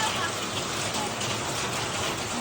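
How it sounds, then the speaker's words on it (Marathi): Hail falls at a house in a dense, continuous patter and hiss like heavy rain, steady and close for the whole short stretch. "गारा बघा आमच्या घरी, गारा गारा"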